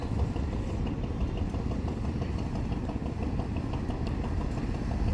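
Low rumbling engine of the passenger launch Swarnadwip 7 as it slows near the ghat at Munshiganj, a steady throbbing drone with faint clatter and no voices.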